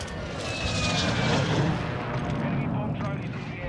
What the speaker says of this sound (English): I got a bomb drone. Watch out for that bomb drone. Bomb drone coming in.